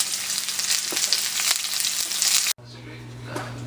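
Onions sizzle loudly and continuously in a pan on medium heat, close by, before the sound cuts off abruptly to a quieter background hum.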